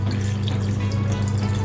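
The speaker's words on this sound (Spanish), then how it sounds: "Y vamos a agregarle agua para que se pueda licuar todo esto." Water pours steadily into a blender jar holding smoothie ingredients in a home kitchen, a continuous close splashing stream with low hum, no voices.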